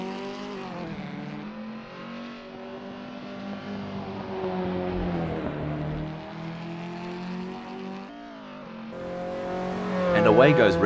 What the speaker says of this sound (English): And away goes Renault 99, charging down Fisherman's Bend like a bull at a gate